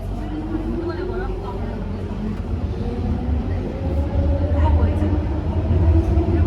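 A London Underground tube train running, a steady low rumble and rattle with rising and falling whine, heard from inside the carriage and growing louder toward the end, with voices talking over it.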